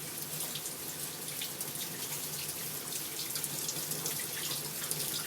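Tap water runs steadily into a sink over frozen food taken straight from the freezer, a continuous close hiss of flowing water with no talk, part of cooking Filipino ginisa.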